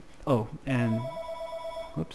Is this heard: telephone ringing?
yes